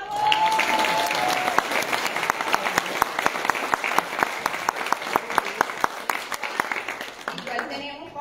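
Steady applause from an audience at an international ecological event opening, with dense clapping running throughout and voices rising over it near the start.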